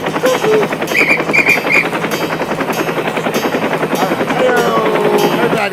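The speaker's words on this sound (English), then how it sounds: "They're hovering over in the helicopter" A police helicopter hovers overhead, its rotor thumping in a loud, steady, rapid pulse that fills the whole stretch, with faint voices underneath.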